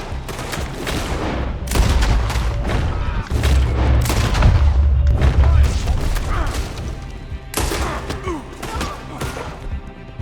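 Gunfire in Red Dead Redemption 2 during a tense mission: repeated loud shots and booming thuds pile into a dense, sustained volley, with a short lull near the end before another burst, and a voice talking over it.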